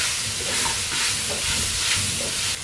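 Onions, green chillies and ginger garlic paste sautéing in hot oil, a loud, dense, continuous sizzle with soft stirring scrapes mixed in, close up and steady throughout.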